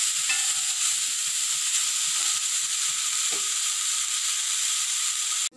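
Orange peel sautéing with salt in a pan for pickle, a steady close sizzle and hiss throughout with occasional soft stirring scrapes, no talking.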